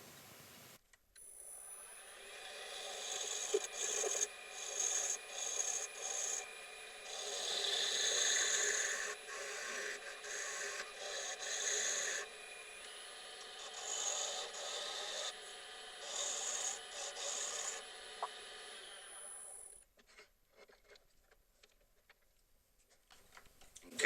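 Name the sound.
skew chisel turning sapelli wood on a lathe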